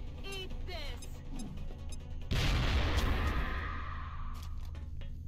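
A frag grenade detonates in the turn-based tactics game XCOM: Enemy Unknown/Enemy Within, a sudden loud boom that rolls off into a long fading rumble and debris noise, with voices just before the blast.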